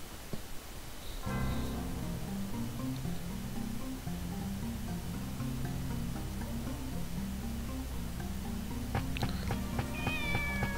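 A cat meows in the video game Shenmue over steady game music, with a few short, fairly clear meows late in the clip.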